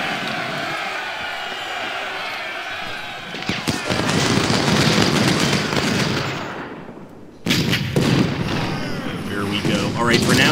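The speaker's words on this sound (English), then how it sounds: "I definitely want to get closer at least and get one more volley off before I get back into my position." Civil War musket volleys in the Ultimate General: Civil War game at the Battle of Chickamauga: dense crackling bursts of gunfire with booming reports, swelling and dropping, then a sharp fresh volley near the end, with a voice talking over it.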